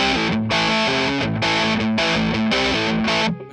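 An electric guitar chugs and rings through the high-gain distortion channel of an amp, selected by a Moen GEC8 footswitch switcher, playing loud saturated chords with brief gaps between phrases and no voices.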